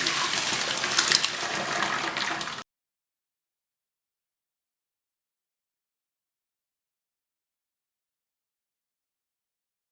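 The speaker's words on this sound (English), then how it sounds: "I'm going to drain the water." Hot water from blanched spinach pours out of a pan into a drain or sink, a brief gushing splash that lasts a couple of seconds and then stops into silence.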